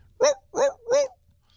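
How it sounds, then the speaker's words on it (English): Three loud, close dog barks in quick succession from a played recording, evenly spaced with short silent gaps between them. "And then you hear the barking dogs"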